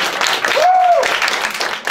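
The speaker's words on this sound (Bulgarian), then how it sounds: "моля аплодисменти" An audience applauds during a card magic trick at a presentation, a dense, steady burst of clapping from a nearby crowd lasting about two seconds, with a brief whistle-like tone in the middle.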